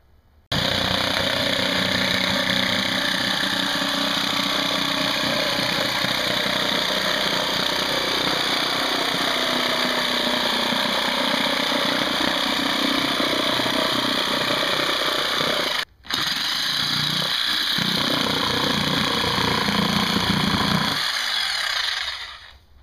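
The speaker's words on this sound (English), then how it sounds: "decided I'm just going to cut this last end off with the jigsaw." A jigsaw cuts the end off a pegboard panel, its motor running steadily and loudly for about fifteen seconds, then briefly stopping and restarting to finish the cut before winding down.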